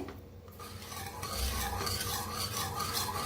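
A dill (shepu) vegetable dish is stirred in a pan, a continuous close scraping and rubbing with a faint sizzle underneath and no voices.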